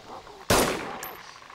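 A single loud gunshot cracks up close while shooting at zombies in the video game DayZ, followed by a decaying echo tail.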